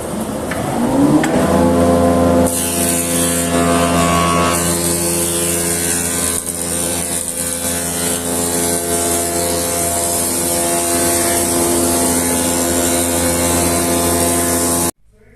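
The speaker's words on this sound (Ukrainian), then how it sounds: "Налаштовуємо висоту стола і пускаємо його в рез. Включаємо пусковий механізм." A woodworking spindle moulder with a cutter on its spindle starts up and runs steadily at high speed, a loud continuous machine whine with strong harmonic tones while cutting wooden window trim, with no talking.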